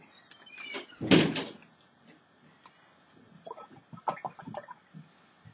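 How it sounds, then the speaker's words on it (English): A door being closed indoors, one solid thump with a short rattle, heard close and fairly loud, followed by faint scattered clicks and shuffling. "Close that door, please."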